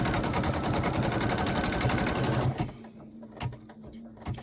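A sewing machine quilting extra stitching over a table runner runs in a dense, steady close-up whir for about two and a half seconds, then stops, leaving faint clicks and handling noise.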